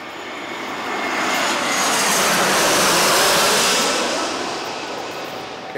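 An Airbus A380 jet airliner arriving from Sydney roars overhead, a loud broad engine rush that builds to a peak mid-pass and then eases away, with no talking.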